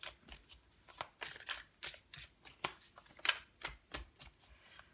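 Tarot cards shuffled by hand, a quick rhythmic series of soft riffling and slapping bursts, close and fairly quiet, repeating steadily with no voice over them.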